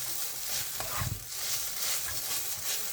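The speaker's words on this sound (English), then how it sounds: "You can stir it" Shirataki rice is stirred in an electric pan, giving soft, faint scraping and light sizzling that repeats in gentle strokes, heard alone without talk.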